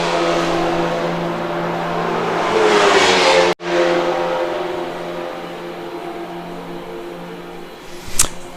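Porsche 911 GT3 R race cars lapping Mugello during a 12-hour endurance race, a loud continuous engine roar swelling as a car approaches and passes close by, then another high-pitched engine note sustaining afterward.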